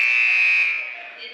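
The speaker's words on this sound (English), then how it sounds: "More buzzer." A loud, steady electronic buzzer sounds in a high school boys' basketball gym, holding for about a second before fading slightly, with no voices over it.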